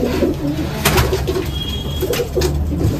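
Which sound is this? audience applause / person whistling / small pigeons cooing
small pigeons cooing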